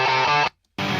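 A sustained, aggressively distorted electric guitar chord rings out under low-pass and high-pass filtering, cuts to near silence for a moment, then crashes back in.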